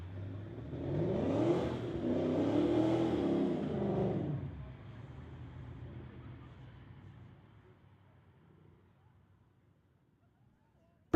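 A 2002 Lexus on street tires launches down a drag strip, its engine revving loud through the gears for about four seconds before the sound fades steadily into the distance.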